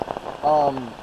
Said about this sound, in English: you can probably hear the wind and the rain hitting the tent right now